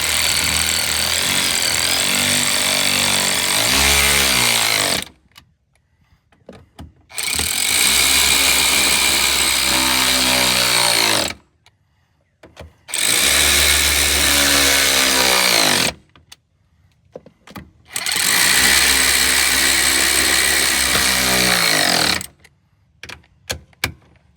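A power tool runs in four long, loud bursts with brief pauses between them while tightening the tow mirror bolts on a 2021-2024 Ford F-150, the motor hammering steadily through each run.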